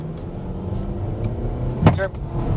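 A 2021 Nissan Rogue compact SUV pulling away at full throttle, with a steady engine rumble from inside the cabin, a sharp clunk near the end and a brief voice just after it.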